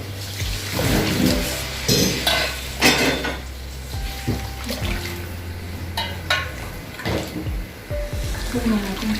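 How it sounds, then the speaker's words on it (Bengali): Boiling water is poured into a pot of fried rice for khichuri, splashing and gurgling, with metal clanks of pot and utensils near the microphone. A person speaks intermittently over it. "সেই ফুটন্ত পানি এখন এখানে দিয়ে দেবো"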